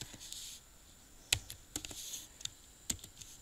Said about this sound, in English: I really have to learn how to type.